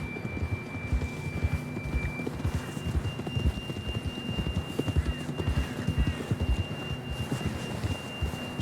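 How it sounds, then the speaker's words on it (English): Steady clip-clop of horse hooves trotting at a brisk, even rhythm, with a faint high tone and ambient hiss underneath, in Red Dead Redemption 2. "John was riding that horse when we left Blackwater."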